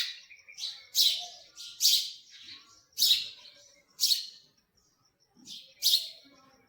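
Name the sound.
sparrow that came to eat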